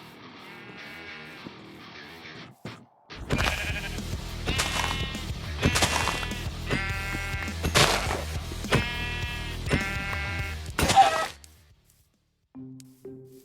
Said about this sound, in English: It said that I could get food by hunting animals, and I had passed a flock of sheep earlier.